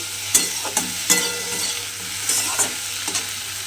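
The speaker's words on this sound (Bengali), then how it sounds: "ঢ্যাঁড়সটা কিন্তু আমি এইভাবে নেড়ে নেড়ে একটু ভেজে নিয়েছি" Okra being stirred and fried without water in a pan on a low gas flame, a steady soft sizzle broken by several sharp scraping stirs of a spoon against the pan.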